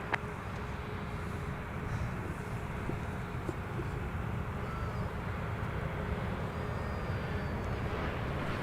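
A jet taking off from runway 17 at Minneapolis–St. Paul airport, a steady broad engine roar held at one level throughout, distant and unbroken.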